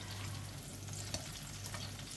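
Eggplant frying in hot oil, a soft continuous sizzle and crackle with a low hum underneath and a faint clink near the middle, heard close but quietly with no talk.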